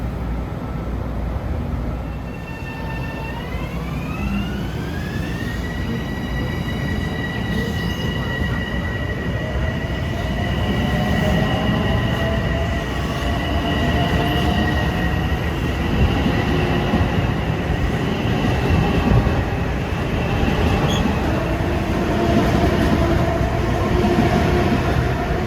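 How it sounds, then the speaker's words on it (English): A New York and Atlantic freight train, RS 41, rolls along track 1 of the LIRR Main Line toward Fresh Pond in Queens, a loud, steady rumble with a rising horn-like tone and sustained wheel squeal as it passes close by. "Approaching at 3:38 is New York and Atlantic train RS 41, heading back to Fresh Pond in Queens, running down track 1."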